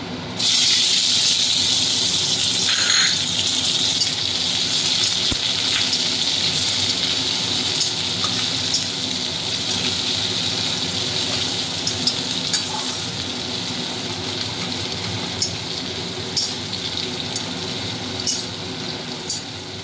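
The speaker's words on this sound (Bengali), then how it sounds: "পেঁয়াজটা দিয়ে দিচ্ছি।" Onion fries in a pan for masoor dal with pat shak, a loud, continuous close sizzle with stirring scrapes and occasional sharp spatter pops.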